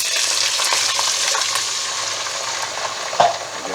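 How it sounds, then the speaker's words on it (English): Beef stock poured over caramelized onions in a hot pan, giving a steady, loud sizzle and bubbling hiss throughout with a brief sharper spike near the end; no one speaks. "what we're going to do is put in 600 mils of beef stock."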